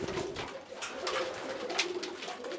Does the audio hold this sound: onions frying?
no